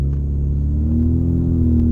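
A 2017 Honda Civic Sport Hatchback with a CVT drones steadily from the exhaust while driving, a loud, even low rumble with a slowly rising tone and no speech.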